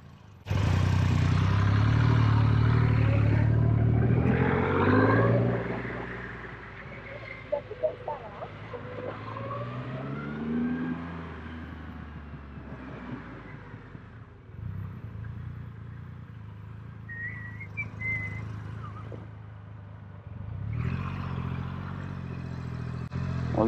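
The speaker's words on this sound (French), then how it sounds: "On dirait une moto-camion." A Triumph Rocket 3 motorcycle engine hums low and steady while riding, loudest at the start then settling into a continuous drone with a brief swell near the end, with people talking over it.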